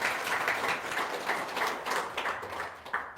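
Audience applause at a talk on paying off debt, a steady wash of clapping filling the room at moderate volume with no voices over it.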